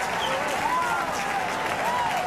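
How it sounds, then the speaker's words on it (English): An Oregon crowd applauds at the US Olympic Trials 5,000 meters, sustained stadium clapping and cheering from a large crowd, with a faint whistle-like tone riding over the steady roar. "Galen Rupp accepting the adulation of this Oregon crowd"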